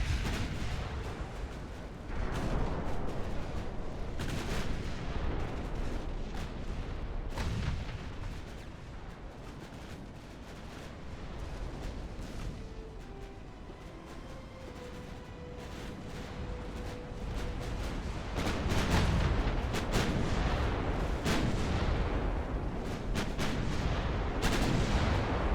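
Battleship main guns firing in Ultimate Admiral: Dreadnoughts, heavy booming salvos that repeat through a long stretch of continuous naval battle rumble, loud and dense with no talking.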